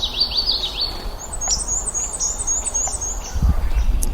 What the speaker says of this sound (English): There you go, black and white warbler.